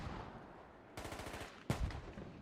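Automatic gunfire rattles in a fast burst midway through a military simulation game battle, followed by a heavier blast-like impact near the end, with steady ambient noise throughout.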